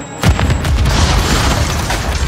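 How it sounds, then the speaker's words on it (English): A grenade blast in Call of Duty MW3 online multiplayer: one loud, close boom that hits sharply and then rolls on as a long, dense rumble, with no voices. "Throwing grenade!"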